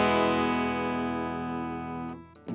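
A Telecaster electric guitar through a Vox AC30 S1 amp on a fairly clean setting with no reverb rings out as one sustained chord, decaying slowly before a couple of quick muted string scrapes at the end.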